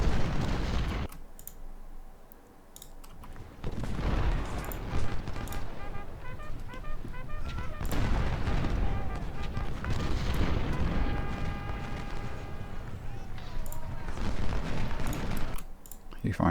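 Musket volleys and artillery booms in the Civil War strategy game Ultimate General, scattered sharp cracks and thumps in irregular bursts over battle noise, with someone talking over the action.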